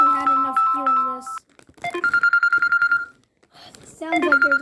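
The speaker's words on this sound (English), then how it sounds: "It sounds like there's a call already in my phone." Phone keypad tones and ringtone melodies sound in loud bursts: a rapid run of beeps, a steady string of evenly pulsed electronic tones, then more beeping melody after a short gap.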